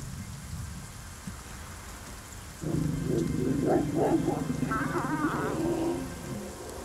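Rain falling in the Kalahari desert, a steady hiss that swells partway through into a louder, denser downpour, heard alone without talk.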